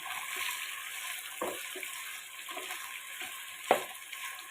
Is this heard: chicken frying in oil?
yes